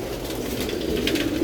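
Racing pigeons in a loft room in Mirpur, Dhaka, coo together in a steady, low, throaty murmur that fills the space, close and continuous, with no talking.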